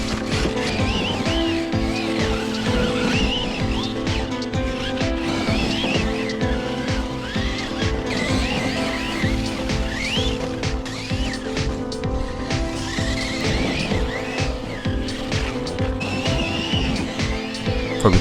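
Losi LMT RC monster truck climbing a wood chip pile, its electric motor whining and revving continuously with tire spin and scrabbling bursts, loud and close throughout with no talk.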